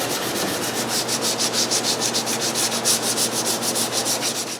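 The corners of a walnut wood clock frame base are sanded by hand, a close, steady rhythmic rasp of quick back-and-forth strokes with no voices.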